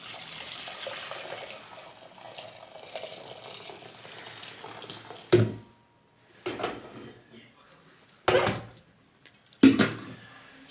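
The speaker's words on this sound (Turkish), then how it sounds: "Çaydanlıkta sıcak su ısıttık. Buraya döküyoruz." Hot water heated in a kettle and poured into a container, a soft trickling splash that runs steadily then stops, followed by a few sharp clunks and brief louder pours.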